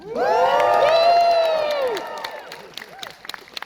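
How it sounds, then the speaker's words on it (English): A crowd at a film premiere event bursts into loud whooping and cheering for a director, a strong surge of voices for about two seconds that fades into scattered claps and a few distant shouts. "Guys, cheer for Alex Garland. Let's go"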